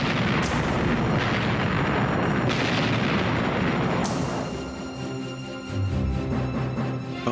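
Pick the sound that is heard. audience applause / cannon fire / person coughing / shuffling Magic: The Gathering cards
cannon fire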